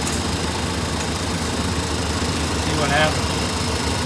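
A Chevrolet square body truck engine idles steadily while warming up, a continuous low rumble running beneath a man's nearby speech.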